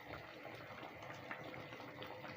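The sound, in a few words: soup with crayfish and uziza seed boiling in pot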